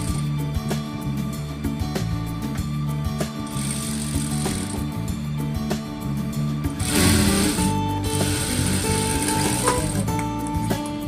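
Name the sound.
sewing machine stitching fabric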